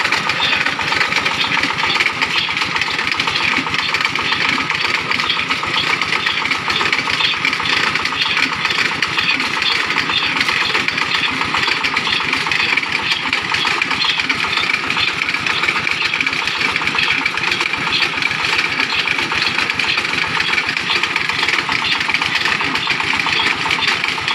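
A small well-drilling rig engine runs steadily and loudly up close, a constant rattling drone with no breaks or changes in pace.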